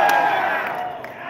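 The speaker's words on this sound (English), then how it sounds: "I'm always surprised that the PvP crowd's the loudest" A live crowd of PvP players cheering and whooping at a Star Wars: The Old Republic cantina fan event in Chicago, a loud, sustained roar of many voices that gradually fades over about a second.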